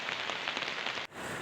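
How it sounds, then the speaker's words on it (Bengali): Heavy rain falls steadily in a village, a dense hiss of drops hitting surfaces. It is briefly cut off near the end, then resumes. "গতকাল রাত থেকে শুরু হয়ে গেছে প্রচুর বৃষ্টি"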